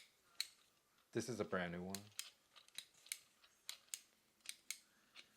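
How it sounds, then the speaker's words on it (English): The Kuma Elite Tactical ALICE SAES quick release gives a series of small, sharp plastic clicks spaced through the clip, close and faint, after a brief spoken phrase. "So you should be able to hear it click."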